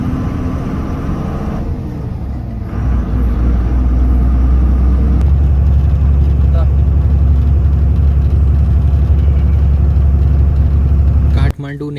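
A passenger bus engine hums low and steady on the early-morning run from Kathmandu toward Salleri, a loud continuous rumble that thickens midway, while someone speaks over it.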